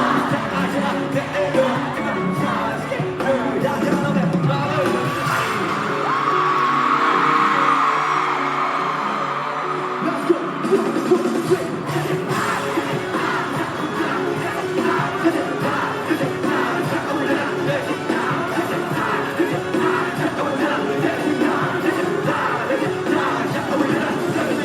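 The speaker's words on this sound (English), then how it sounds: "Listen to the crowd." Concert crowd at a show in Oakland, a dense roar of cheering, whoops and yells that swells and holds throughout, close and loud with no clear pauses.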